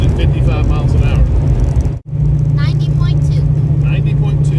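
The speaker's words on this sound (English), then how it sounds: "We're just going to cruise at 55 miles an hour." A Ford Fox Body Mustang with rubberized undercoating and a reduced muffler cruises at 55 mph, its loud, steady low interior drone broken by one brief dropout while people talk over it nearly the whole time.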